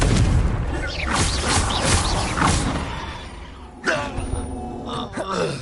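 A Confringo spell explosion in a Harry Potter video game, heard as loud, dense booming blasts and rumbling crashes up front, followed by a sharper impact and lingering debris-like rattles.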